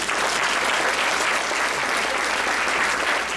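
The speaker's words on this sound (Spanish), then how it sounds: "le damos a Jesús un fuerte aplauso" A church crowd at a patronal festival dance in Chuchuca, Zacualpa, Quiché, claps for Jesus in dense, sustained applause that stays steady and loud throughout.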